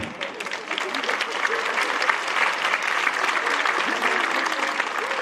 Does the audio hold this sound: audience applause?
yes